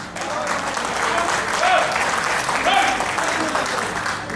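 An audience at a grand real estate project launch event claps in steady, loud applause that continues throughout, with crowd voices mixed in.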